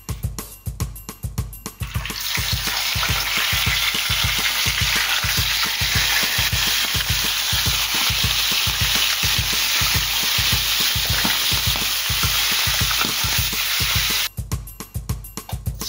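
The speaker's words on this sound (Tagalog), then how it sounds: "At ipiprito ko muna po itong isda." Fish frying in a pan of hot oil, giving a loud, dense, continuous sizzle that starts suddenly and stops just as abruptly near the end, with a rhythmic low thumping underneath.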